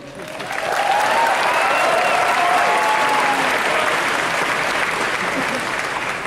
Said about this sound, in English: Therefore applaud yourselves.